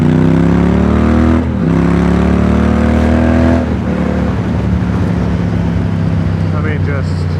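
A Triumph Speed Twin motorcycle fitted with British Customs turnout exhaust pipes revs loudly up close, its engine note rising and falling before settling into a rougher idle.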